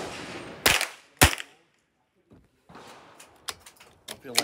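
Two sharp, loud gunshots ring out close by in quick succession during outdoor shooting practice, followed by a quiet gap, then low handling noise with a few smaller clicks and knocks.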